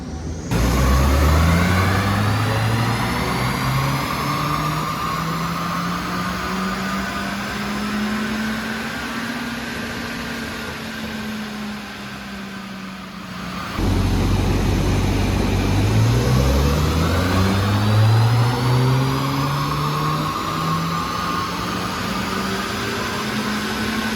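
A MK7 Ford Fiesta ST fitted with an Airtec intercooler and a MAXD 1R tune revs on a dyno. It makes two loud, rising pulls up through the rev range, with a brief drop in between.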